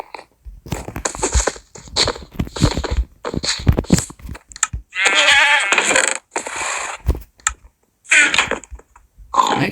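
Goats bleat in the video game Minecraft One Block, loud, close, bleating calls in short bursts separated by brief silences, with some longer cries.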